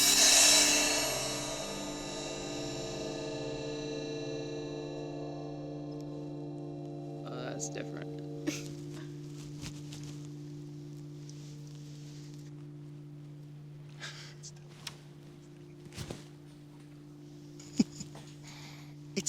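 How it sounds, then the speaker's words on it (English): A loud cymbal hit decays slowly inside a silent anechoic chamber, its bright shimmer fading over several seconds into a low hum, with faint rustling and a short spoken remark later. "Let's get the loudest cymbal sound that you can possibly do and"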